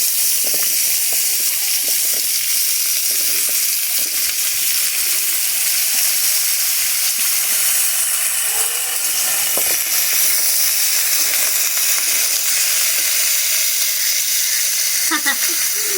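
Vegetables sizzling and frying in a hot pan while a dried fish ghat is cooked, a loud continuous hiss with occasional stirring scrapes and no talk.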